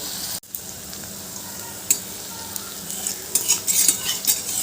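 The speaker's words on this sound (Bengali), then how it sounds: "এইভাবে কোপ্তাগুলো আমি লাল লাল করে ভেজে নেব" Vegetarian koftas fry in hot oil over lowered flame with a steady sizzle, with a few utensil taps and a louder bubbling burst toward the end.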